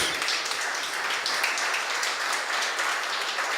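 A church congregation applauds in sustained, dense clapping, a steady wash of many hands that continues evenly throughout at moderate volume, with no clear voices rising above it.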